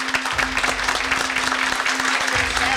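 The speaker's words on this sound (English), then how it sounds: "Let's give them a round of applause." An audience at a civic club panel discussion claps in a steady, dense round of applause that lasts throughout, close and even, with no voices standing out.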